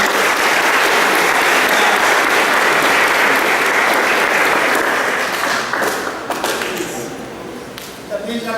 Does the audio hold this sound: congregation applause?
yes